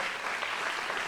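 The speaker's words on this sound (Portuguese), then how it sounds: "uma salva de palmas para quem decidiu nascer de novo" A church congregation claps steadily and densely for about a second, a continuous wash of applause with no voices standing out.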